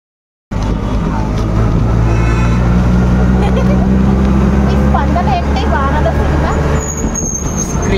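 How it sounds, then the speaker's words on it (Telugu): An auto rickshaw rides through the rain. Its loud, constant engine and road roar fill the whole stretch after a sudden start, with faint chirps and a high whine near the end. "వర్షం పడుతుంది కాబట్టి మేమైతే ఆటో బుక్ చేసుకొని స్టార్ట్ అయిపోయాం"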